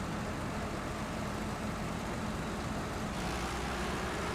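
A loud truck engine drones steadily in a truck-driving video game, a dense low rumble with road noise that holds constant throughout with no talking.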